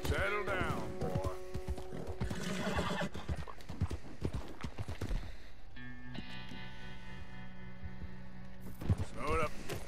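Horse hooves clip-clop in a steady, close rhythm along a treacherous mountain path in Red Dead Redemption 2, with whinnies breaking in near the start and end and someone talking throughout.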